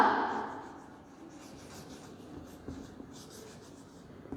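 Pen or chalk scratches and rubs in short strokes as a math answer is written out, close and soft, with no talk over it.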